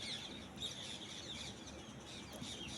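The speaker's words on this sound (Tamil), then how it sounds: "இந்த பறவைகள் சத்தத்தெல்லாம் கேட்டுக்கிட்டு இப்படியே பழகிடுச்சு எனக்கு" Birds calling and clucking in front of a house in the morning, with chicken-like clucks and chirps mixed into a steady, fairly faint outdoor background without talk.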